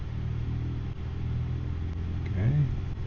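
Diamond DA40 light aircraft engine droning steadily during a night taxi, a continuous close mechanical hum that swells slightly as power is added near the end.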